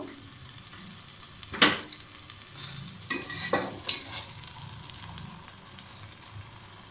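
Spaghetti with capsicum being stirred in a hot pan, soft sizzling under a few louder scraping clatters of the utensil, fairly quiet and close.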